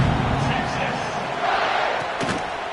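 A stadium crowd in the video game College Football 26 murmurs and roars at a Tennessee at Texas matchup, a dense, steady wash of crowd noise with a few louder swells.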